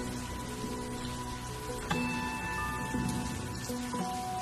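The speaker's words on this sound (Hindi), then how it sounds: "बहुत तेज बारिश हो रही है" Steady rain falls throughout, a dense even patter on surfaces at moderate loudness, continuous with no pauses, with faint tonal background sounds and no talking.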